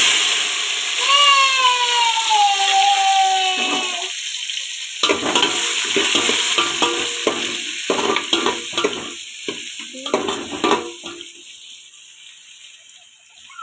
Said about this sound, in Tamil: இது பச்சை மிளகா போட்டுக்கலாம் வெங்காயம் தக்காளி போட்டுக்கலாம்